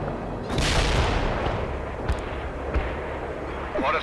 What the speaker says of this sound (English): Mortars fired. Expect impact in a few.